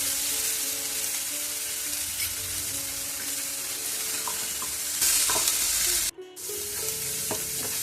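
Tomatoes and onions sauté in a pan for tomato chutney, giving a loud, continuous sizzle with stirring scrapes and clinks, close up, briefly cutting out near the end before resuming, with no talk.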